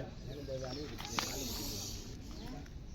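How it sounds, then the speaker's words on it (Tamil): A Russell's viper hisses steadily and loudly at close range during a snake rescue in Madurai, while faint voices murmur in the background. "கொடிய விஷம் இல்லை கண்ணாடி விரியன் பாம்பு"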